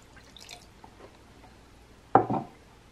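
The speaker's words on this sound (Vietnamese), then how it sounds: "Đối với lần nấu thứ hai này thì mình sẽ cho vào đây là 70ml nước" About 70 ml of water goes into a pot for a second cook of brown sugar milk tea pearls: one short splashing pour, close by, after near-silence.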